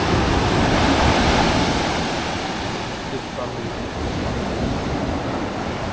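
Storm surf and strong wind roar steadily on Camiguin de Babuyanes Island at Panan Bay during a typhoon, a loud, continuous wash of breaking waves and gusts without a break.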